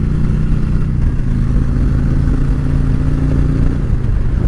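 A big touring motorcycle accelerating, a loud close engine roar with a steady low rumble and a rising pitch through the gears over a few seconds, no voices.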